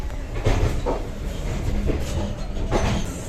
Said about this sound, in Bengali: মেমো এক্সপ্রেস এখন অন্ডারে ঢুকছে লাইন চেঞ্জ করে স্লোভাবে ঢুকছে দেখো কেমন টার্নিং নিচ্ছে